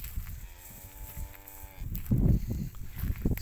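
Angus crossbred calves moo with a drawn-out, harmonic bellow lasting over a second, followed by rougher, louder lowing and farmyard noise; no talk.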